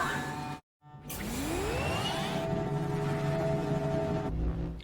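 An exhaust-like mechanical whoosh in the Selenitic Age maze of the video game Myst: a steady droning rush with a rising sweep, briefly cut by a short silence, moderately quiet.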